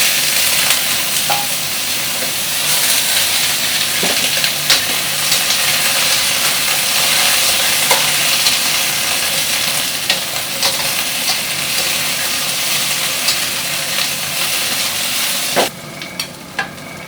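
Leftover chicken stir-fries in a hot pan, giving off a loud, continuous sizzle and hiss with occasional clicks and scrapes of stirring, steady and close, easing off near the end.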